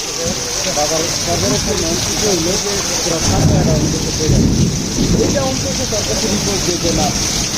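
Heavy monsoon rain pours steadily in Tejgaon, Dhaka, with low thunder rumbling beneath it midway. People talk close by over the constant downpour.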